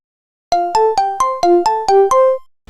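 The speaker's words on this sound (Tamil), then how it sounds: "வெடிகுண்டு தாடா கால் பண்ணுறான்," A mobile phone rings for an incoming call, a loud, clean electronic melody of eight quick alternating tones in a steady rhythm, alone with no talk.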